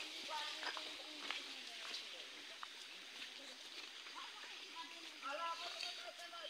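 Spring water flowing out of a rock in a forest, a steady trickling, splashing wash running throughout at close range, with faint voices and other background noise mixed in.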